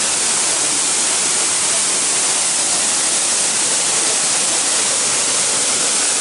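Steady, dense roar of a waterfall at a tourist site near Fort Portal, Uganda, filling the whole span with broadband rushing water and no breaks, loud and continuous.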